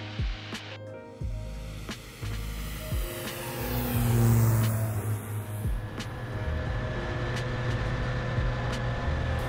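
A small airplane's engine runs at full power through the takeoff roll, a loud steady drone with sharp clicks and a swelling rush of wind and air noise as it accelerates; nobody speaks.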